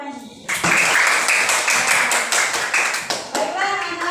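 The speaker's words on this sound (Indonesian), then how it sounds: "Beri tepuk tangan ke Panji." Elementary schoolchildren in a classroom clap together for a classmate's correct answer, a loud burst starting abruptly and continuing as rhythmic, roughly synchronized claps close by, with a teacher's voice briefly before it starts.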